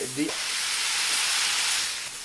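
Beef sizzles loudly in a frying pan on a trip in the Atacama region of Chile, a steady close hiss and crackle that fades slightly at the end, with a brief voice at the start.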